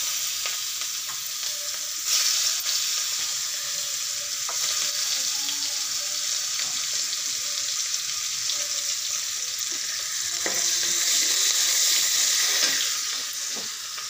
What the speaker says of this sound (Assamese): পটল ফ্ৰাই কৰা তেলখিনিতে মই পিঁয়াজ দি দিম